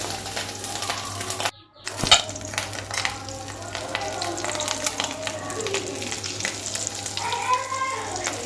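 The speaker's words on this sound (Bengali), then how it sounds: "আমরা শুধু ডিমটাকে ভেজে নিচ্ছি" Steady sizzling of fish roe frying in a pan, with a brief dropout near the start and some faint voices in the background.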